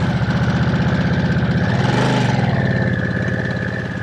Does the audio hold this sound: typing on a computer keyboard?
no